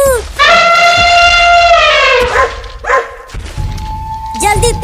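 Cartoon dogs bark and yelp loudly in a long drawn-out howling burst followed by shorter yips, mixed with thumps and voices talking over them.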